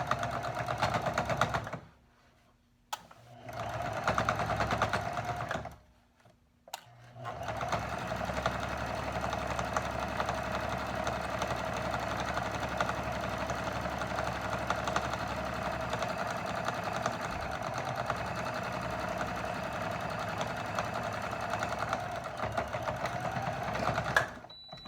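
A sewing machine stitches a two-layer face mask with ties, its steady close mechanical whir running almost unbroken, with two short pauses near the start before settling into a long even run.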